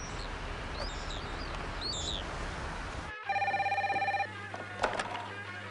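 A telephone rings with a steady electronic trill for about a second while a call is put through to a room, after a stretch of outdoor ambience with bird chirps; a brief click follows.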